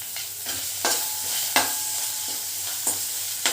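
Chopped onion and capsicum fry with ginger garlic paste for soya chilli, giving a soft continuous sizzle broken by several sharp spatula scrapes and stirs against the pan, heard up close with no voices.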